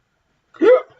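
One short, sharp hiccup from a man during a live football watchalong, close and fairly loud, breaking an otherwise quiet moment.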